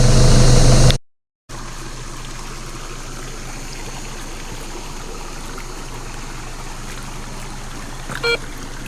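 Water trickles steadily through a small creek used for gold fossicking in North Queensland, a continuous close babbling flow broken by a brief gap near the start, with no voices.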